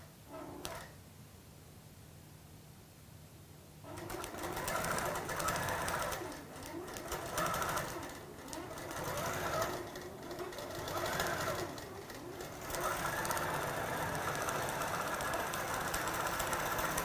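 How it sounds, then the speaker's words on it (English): A sewing machine quilting a Fourth of July quilt runs with a fast, steady mechanical stitching hum, starting after a few quiet seconds and continuing with slight pauses and shifts in speed, fairly soft and alone. "I'm going to let this finish quilting"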